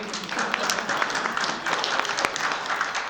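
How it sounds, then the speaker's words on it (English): Audience clapping at a train-the-trainers session, a steady, moderately quiet patter of many hands with some voices mixed in. "Can y'all clap it up for me for getting through my issues?"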